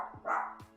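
A dog gives two short, close barks with a yip-like edge, separated by a brief pause, in an indoor room.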